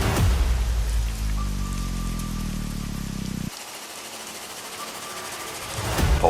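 Rain falls continuously in a steady, even hiss that carries through the whole stretch, shifting in tone partway through and swelling a little toward the end.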